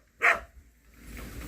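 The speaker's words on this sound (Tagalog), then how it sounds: "Maya-maya na lang at may aso." A dog gives a single sharp bark near the start, then faint outdoor background noise continues.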